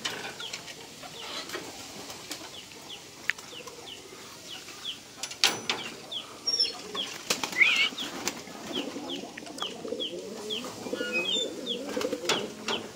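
Pigeons in a flying loft, with wings flapping in bursts against a quiet background alongside soft coos and faint chirps, moderately near, with no talk.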